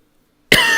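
After half a second of silence, one sudden, harsh, close cough bursts out and continues as a rough exhalation until the end.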